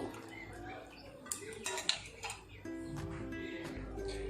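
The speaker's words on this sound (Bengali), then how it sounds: "এই নুনটাকে মিশিয়ে নেব।" Salt worked into raw mutton in a metal bowl for a Mughlai mutton rezala, with scattered clinks and scrapes of utensil against the bowl over a steady low background hum.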